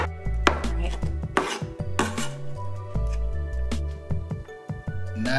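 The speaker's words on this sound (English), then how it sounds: "Nicely diced. Cabbage chopped." Knife chopping cabbage on a cutting board for smoked salmon tacos, a steady run of sharp, close, loud thuds and crunches with short pauses between bursts.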